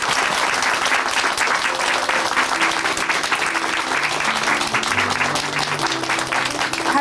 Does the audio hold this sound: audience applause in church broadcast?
yes